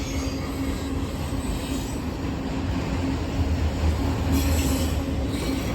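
CSX freight train cars roll steadily past up close at Glendale, a dense continuous rumble of wheels on rail with faint squealing and hiss throughout, loud and unbroken, with no voices.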